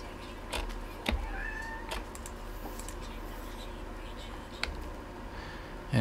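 A pet cat meows in the background, a short plaintive cry amid light clicks and tapping like a keyboard, moderately quiet with occasional sharp knocks.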